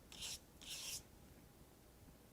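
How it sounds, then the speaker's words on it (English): Medium grit sandpaper rubbing over chalk acrylic paint in two quiet rasping strokes near the start, then only a faint background hush. "So just same medium grit sandpaper."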